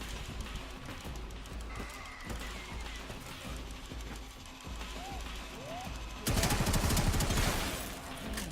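Rapid gunfire in the video game Warframe, a dense burst of shots aimed at a security camera, loud and continuous, swelling into a heavier barrage near the end over game ambience.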